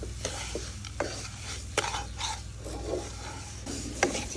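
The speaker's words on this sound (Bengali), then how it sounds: "আবারও ভালোভাবে নেড়ে নেব।" A bread laddu mixture with sugar is stirred in a pan, giving soft scraping and rubbing strokes at an irregular rhythm. Each scrape is a small sharp accent over a steady low background hum.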